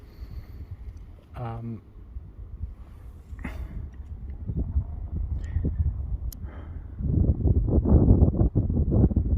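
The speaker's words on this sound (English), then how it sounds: "The wind is coming across us slightly, but certainly slightly with us, I would say." Wind gusting across a tidal river around a paddleboarder, a low, uneven buffeting rumble on the microphone that swells toward the end, with someone talking over it.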